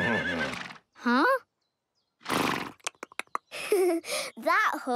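A cartoon horse whinnies loudly with a wavering, rising-and-falling neigh, followed by bursts of clattering and another shrill whinny near the end.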